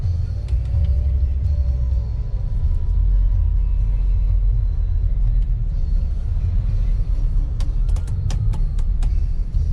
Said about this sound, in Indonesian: ini ada mobil lewat nyebrang. Ini Hyundai Creta ya kalau tidak salah.